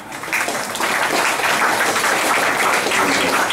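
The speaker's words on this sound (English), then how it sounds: "So a round of applause for Sam, please." An audience applauding a speaker at a tech meetup, a loud, full burst of clapping that builds quickly and holds steady throughout.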